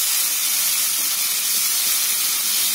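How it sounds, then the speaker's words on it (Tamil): Ground tomato stirred into a hot pan with onion, a loud continuous hissing sizzle like steady steam, close and unbroken, with no talking. "நல்லா வந்து கிண்டி விட்டுக்கோங்க."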